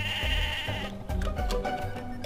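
In the Mabinogi online game, a sheep bleats in a wavering, drawn-out call, repeated as a couple of bleats over a steady game music bed, with no talk.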